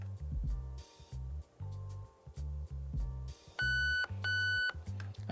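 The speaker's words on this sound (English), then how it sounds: "press and hold that trigger until you hear those 2 audible beeps" Electronic beeps from a Nebula II MOSFET programming menu in a Lancer Tactical Gen4 airsoft rifle: two clear, high, tonal beeps close together near the end, after a run of low rhythmic electronic pulsing.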